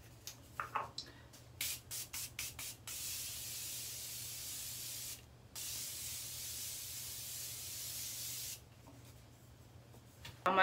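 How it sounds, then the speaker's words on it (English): Morphe Continuous Setting Spray mists out close by: a run of short quick pumps, then a long continuous hiss lasting several seconds, a brief break, and another sustained burst. "So I'm going to use this Morphe Continuous Setting Spray."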